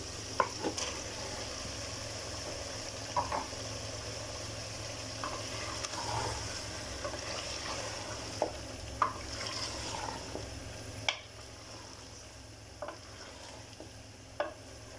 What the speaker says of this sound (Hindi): ये जी इसमें डालने लगी हूँ जी मैं 1 किलो गोश्त